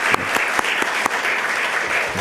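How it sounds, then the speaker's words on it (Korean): A church congregation claps to encourage volunteers, a steady, dense patter of many hands with a few sharper individual claps standing out, fairly loud and with no talk over it. "그분들 위해서 우리 격려의 박수 한번 하겠습니다."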